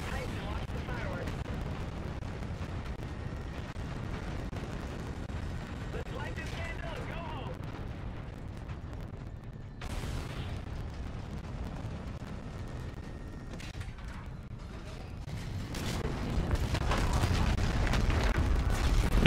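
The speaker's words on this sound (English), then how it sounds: "Get visual on that tower detonation." Deep, continuous rumbling blasts and roaring fire from a tower detonation in the video game Call of Duty: Infinite Warfare, sustained throughout and swelling louder near the end.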